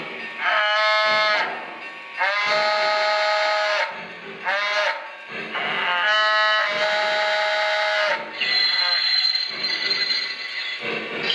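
A toy Lionel Vision Line cattle stock car's electronic animal calls repeat several times, loud, drawn-out mooing bleats with short pauses between them.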